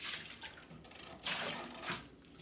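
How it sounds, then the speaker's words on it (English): Water poured from a bowl runs down the sides of a container and into a corner, making soft splashes and trickles that rise in a couple of brief, louder pours, quiet and close. "fill a bowl up with water and rinse the sides off"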